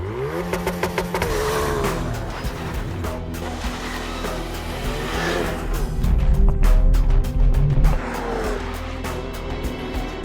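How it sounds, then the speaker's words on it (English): A Ford Focus RS all-wheel-drive hatchback sits at held revs under launch control, then surges away as the clutch is released, engine roaring loud and close with rising gear pulls and a brief louder burst partway. "start the engine, select launch control from the menu system, foot on the clutch, and then foot wide open on the accelerator pedal"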